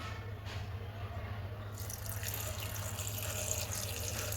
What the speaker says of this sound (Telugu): ఇప్పుడు ఇందులోకి వాటర్ వేసేస్తున్నానండి